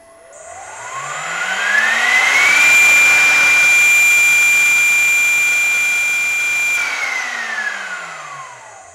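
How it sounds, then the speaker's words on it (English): A Teknomotor 2.7 horsepower, 2 kilowatt high-frequency spindle on a CNC router winds up to a loud, steady whine of up to 18,000 RPM, holds there smooth and even, then spins down with a falling pitch. "Really like the spindle, it runs really smooth, there's no vibration or whatsoever"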